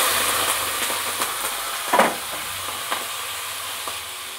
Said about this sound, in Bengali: তেলটা আমার গরম হয়ে গেছে। এবার আমি চিংড়ি মাছটা দিয়ে দেবো।